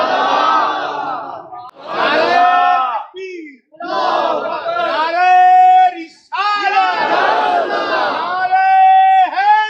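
A large gathering at Darbar e Qadria in DG Khan chants slogans in unison, loud call-and-response bursts of massed voices with short pauses between phrases, close and forceful.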